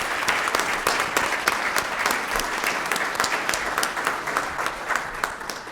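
An awards ceremony audience applauds an engineering awardee with dense, sustained clapping that holds steady and fills the room for several seconds, moderately loud, with no one speaking over it.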